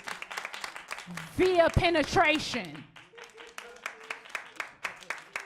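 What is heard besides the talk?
audience applause at a comedy show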